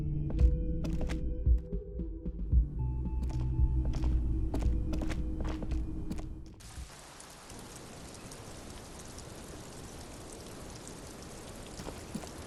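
Steady rain hiss from the video game Disco Elysium, preceded by scattered thunks and clicks over a low musical bed, then settling into continuous even rainfall.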